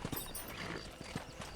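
Horse hooves clip-clop in Red Dead Redemption, about seven close, distinct hoofbeats in an uneven trotting rhythm over faint background ambience, with no talk.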